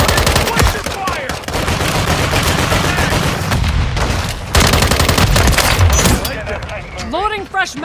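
Dense, loud gunfire in Call of Duty: Modern Warfare 3 War Mode: rapid automatic bursts and heavy booms overlapping almost continuously, with shouted voices mixed in.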